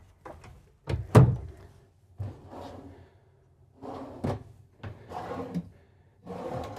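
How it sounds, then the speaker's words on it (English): Bathroom drawers and a cabinet in a Newmar Ventana 4310 RV are opened and closed, giving several close, separate thumps and knocks with brief sliding rattles between them, some louder than others, with no talking. "I have a couple drawers there."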